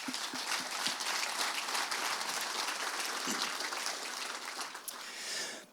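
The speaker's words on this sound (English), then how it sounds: "If we could once again honor you all with a round of applause." Sustained audience applause fills a scholarship celebration, a dense, steady wash of many hands clapping close by for several seconds before easing off slightly at the end.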